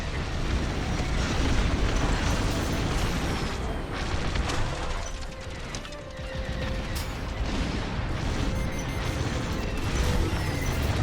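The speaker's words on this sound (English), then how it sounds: "Friendly bomber destroyed." A destroyed friendly bomber blows up during a Star Wars Squadrons space dogfight, a loud, continuous roaring boom layered with crackling debris and engine rumble that fills the whole stretch without letting up.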